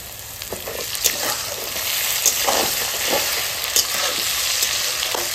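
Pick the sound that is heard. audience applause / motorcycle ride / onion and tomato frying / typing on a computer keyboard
onion and tomato frying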